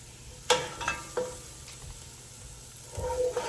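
Onion sautéing in a pan for a vegan Thai coconut red curry, a quiet steady sizzle with a few soft scrapes and stirring clinks.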